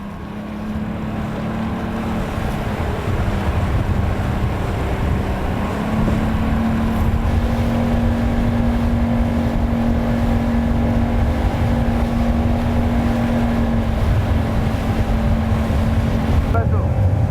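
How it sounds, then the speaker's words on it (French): Steady engine drone of a boat running continuously and fairly loud throughout, with wind buffeting the microphone and a voice speaking over it. "Bateau."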